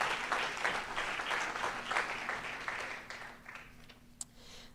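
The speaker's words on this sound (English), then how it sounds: "So give them a round of applause." Audience at a community public safety dinner gives a round of applause, a dense steady clapping that fades out over a few seconds with a final single clap.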